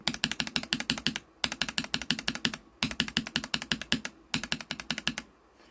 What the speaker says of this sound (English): This is the Gateron Yellow, Milky Yellow. And this is the KTT Kang White.